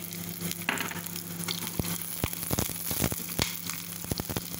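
Onions sizzle and crackle in a hot pan of desi ghee for dal tadka, with occasional scraping and stirring sounds over the steady frying hiss.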